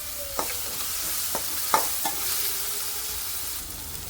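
Chillies, green chillies, cumin, coriander and red chilli powders with coriander leaves frying in a pan for dal palak tadka, a soft steady sizzle broken by several sharp scrapes and clacks of stirring.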